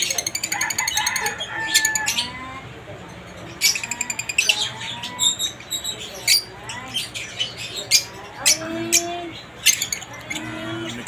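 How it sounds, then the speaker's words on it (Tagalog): Opaline lutino and cremino pet birds in an aviary give bursts of chirps, tweets and harsh squawks in quick, uneven clusters. The calls come near and fairly loud over a low background hum. "Napakagandang mga ibon"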